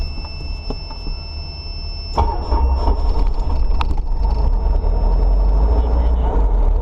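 A Cabri G2 helicopter's engine starting up: a low mechanical rumble that surges into a louder, steady heavy drone after a couple of seconds, with a thin high electronic tone over it and brief clicks near the start.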